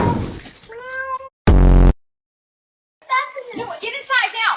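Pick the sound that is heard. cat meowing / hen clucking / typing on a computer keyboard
cat meowing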